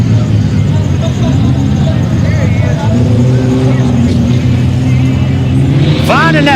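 A mud bog truck engine revs hard toward its rev limiter at an outdoor mud bog event, a loud sustained roar with steady harmonic drone and a rising whine near the end, under crowd and announcer talk.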